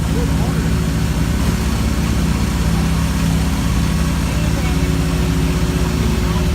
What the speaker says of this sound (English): This is a homemade forklift here with a Buick engine in it.